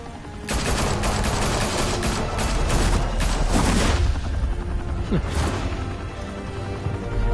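Police opening fire in a Batman video game: a dense, loud burst of rapid automatic gunfire and crashing impacts that runs for several seconds, then thins into scattered shots.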